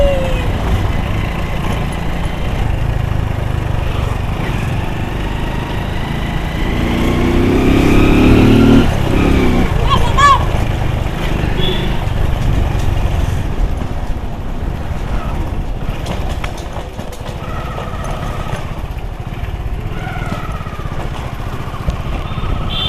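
Motorcycle ride on a road in Tripura, a steady engine drone throughout with a swell of revving midway, heard close from the rider's position with wind and traffic noise.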